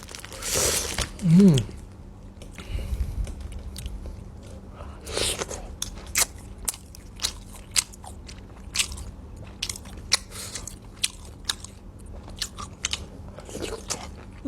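Someone bites into and chews soi ju, a Thai dish of raw sliced beef, with soft wet crunches and smacking chews repeating irregularly up close, preceded by a brief vocal murmur.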